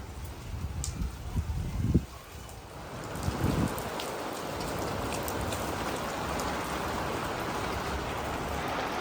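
Heavy rain pours steadily in a village setting, a dense continuous hiss of drops on surfaces, with a few brief nearby knocks and movements early on before the downpour settles into an even roar.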